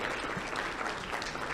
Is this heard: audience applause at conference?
yes